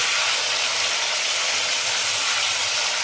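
Spices are tempered in hot oil for a Bengali shukto vegetable dish, giving a loud, steady sizzle that hisses continuously and close up with no break or voice.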